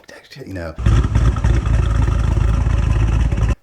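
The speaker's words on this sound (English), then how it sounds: "It just has the most like mournful exhaust tone." A loud, throaty LS3 V8 car exhaust revs and rumbles continuously, close by, with a burst of voice just before it starts.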